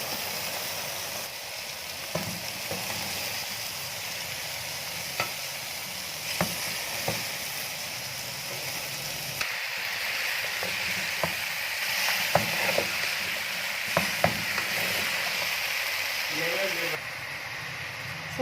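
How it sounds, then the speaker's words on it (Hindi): Pomelo pieces hit a pan of fried masala in ghee and sizzle steadily and loudly, with sharp clicks and scrapes of stirring scattered throughout. "तो अब हम इसमें चकोतरे डाल देंगे।"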